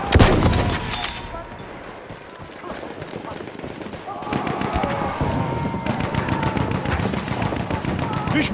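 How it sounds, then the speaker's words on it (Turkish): Enemy machine gun fire rattles in Battlefield 1 on the Suez map, with rapid, loud bursts of gunfire and battlefield noise continuing throughout, while voices are heard during the fighting. "Düşman makinalı tüfeği o tarafta."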